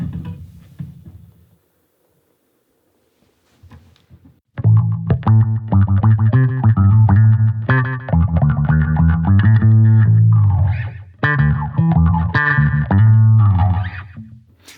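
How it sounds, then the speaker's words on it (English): A bass guitar through an auto-wah effect from a Fender amp preset, playing a loud, distorted funky line whose notes sweep with a vocal quacking filter, following a short soft passage and a brief silence. "You get that auto wah on there."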